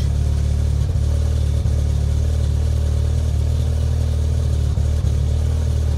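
Forged Audi S3 8V idling steadily just after a cold start, a continuous low engine drone with a brief dip or two, close and loud with no talk over it.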